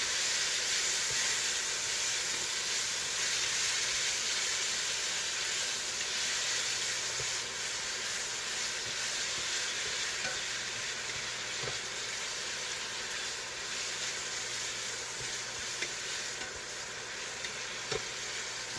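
Constant bright sizzling of bacon searing in a pan, a dense hiss with occasional pops, steady and close with no talking.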